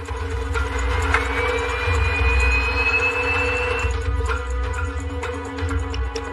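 A steady, loud engine roar with a low rumble and a thin rising whine, continuous throughout like a Flydubai airliner's jet engines spooling up to maximum thrust for a go-around.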